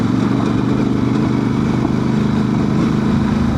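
A Honda Transalp 750 motorcycle engine pulls uphill in second gear on a rally track, a loud, close, continuous droning roar that holds steady throughout.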